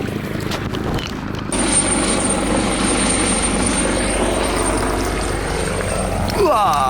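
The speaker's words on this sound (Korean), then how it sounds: "헬기가 지나갑니다." A helicopter drones overhead above rice-paddy fields, a loud steady rotor and engine rumble that swells in after a brief quieter start and holds throughout, with no one talking.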